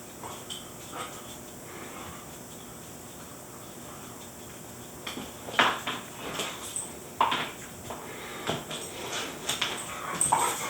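A dog whimpering and yipping nearby, soft intermittent whines that grow more frequent in the second half over a quiet room background.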